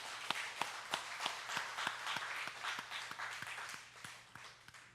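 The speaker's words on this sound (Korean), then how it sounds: "우리 하나님께 영광의 박수 드리겠습니다." A church congregation claps in even, rhythmic unison, roughly three sharp beats a second, faint and fairly distant with a soft crowd murmur underneath.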